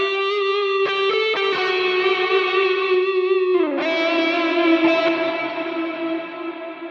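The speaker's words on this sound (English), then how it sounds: "let's move on with the reverb and set the reverb." Sustained synth tone drenched in lush reverb from an audio plugin, a bright harmonic note that dips in pitch midway and then rings on with a long, washy tail that slowly fades.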